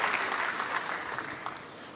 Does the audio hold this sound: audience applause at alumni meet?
yes